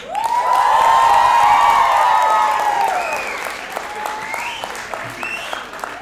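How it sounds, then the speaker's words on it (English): A stand-up comedy crowd breaks into loud applause mixed with cheers and whoops, swelling quickly and then tapering into scattered claps, with voices calling out over it. "You guys start clapping, come on."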